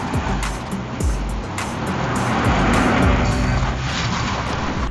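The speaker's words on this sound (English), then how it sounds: "a car engine growing louder as it gets closer" A car engine rumbles steadily and swells louder as it draws nearer, with a broad roar and some road noise.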